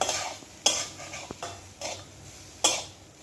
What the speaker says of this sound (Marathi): आणि हे काजू आणि ओला नारळ छान आता परतून घ्यायचं आहे आपल्याला